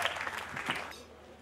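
Wedding guests clapping for the bride, a short burst of quiet hand claps that fades out within about a second.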